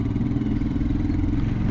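Motorbike engine droning steadily while riding along a New Forest road, a close, loud, continuous mid-pitched rumble with wind buffeting and no pauses.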